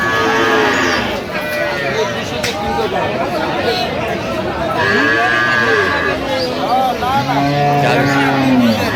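Dairy cows and calves moo repeatedly, several animals calling loudly and close, amid a busy crowd talking at the Aftabganj cattle market in Dinajpur.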